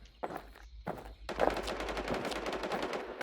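Rapid bursts of gunfire in a zombie survival shooter game, close and loud, with single shots at first and then a dense sustained volley, no talking over it.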